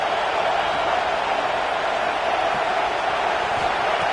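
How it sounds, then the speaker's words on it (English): Crowd noise in a football stadium early in a game, a continuous loud broadband roar of many voices with no distinct individual sounds or speech. "Listen to the crowd energy here in the early going."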